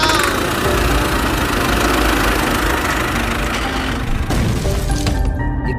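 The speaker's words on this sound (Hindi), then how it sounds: "सोन ट्रैक्टर को स्टार्ट करता है" A tractor engine starts up and runs at a steady, loud idle with a low rumbling knock throughout, a brief dip near the end before it continues.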